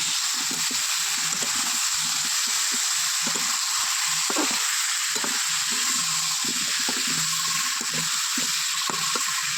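Pumpkin frying in a pan with salt and turmeric, a steady bright sizzle running throughout with faint soft stirring movements beneath, no one speaking.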